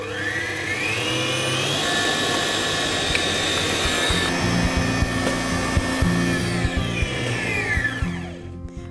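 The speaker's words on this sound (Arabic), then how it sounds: "هاخد أول حاجة عندي هنا البيض، هضربه لحد ما يبقى مرنج معايا" An electric mixer whips egg whites into meringue for a Japanese cake, a loud, steady whirring drone that holds for several seconds before winding down at the end.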